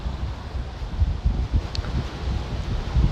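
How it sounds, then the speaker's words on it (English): Wind gusts buffet a camera microphone on Sunny Isles Beach in Miami, Florida, producing a steady, loud low rumble and rustle with no voices. "the wind is kind of tossing it around like a miniature sail"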